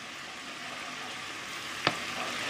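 A pan of crème fraîche and lardons bubbling on the stove gives a soft, steady sizzle and hiss, with one brief louder pop near the end, fairly faint and with no talking.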